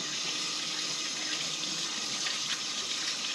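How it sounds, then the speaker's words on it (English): Tap water rinsing the base part of a Franklin CX22 caravan water pump, a steady loud hiss of running water hitting plastic without pause. "Let's give it a quick rinse."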